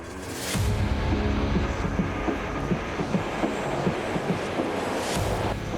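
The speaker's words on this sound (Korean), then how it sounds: "풍속 1단계인 초속 10m" Strong steady wind at 10 m/s, the first stage of a typhoon simulator, rushes loudly and continuously with gusty buffeting after a quiet start, with no talking.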